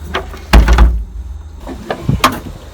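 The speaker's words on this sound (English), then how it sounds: "And your host Max Power will seal the door" A door on an abandoned airliner parked on a farm is pulled shut and sealed, giving a loud close thud followed by a few knocking and latching clunks, near and with no talk.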